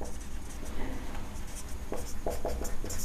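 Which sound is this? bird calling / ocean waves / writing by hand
writing by hand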